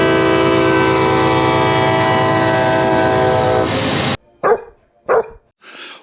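Passing train horn blares loud and sustained with layered tones over rumbling rail noise, then cuts off abruptly and a dog barks twice before a final short bark.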